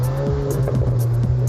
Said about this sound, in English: the quad exhausts producing the kind of exhaust note you want to hear